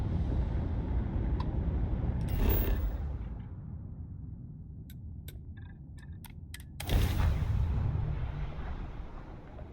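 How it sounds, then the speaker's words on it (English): Spaceship retro thrusters firing during landing in the Starfield video game, a deep roaring rumble that swells, fades, then bursts back loud, with a few clicking electronic blips in the quieter gap. "Retros firing."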